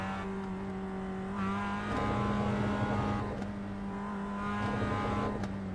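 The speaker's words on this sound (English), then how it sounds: "this is iRacing. And we are in a Mazda MX-5" A Mazda MX-5 race car engine in iRacing at Daytona drones at steady high revs, close and loud, with slight rises as the throttle shifts, and no talk over it.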